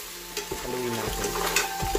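Spicy crab stew is stirred in a frying pan, a spoon scraping and knocking against the metal in a few uneven strokes over a steady close sizzle, with no talking.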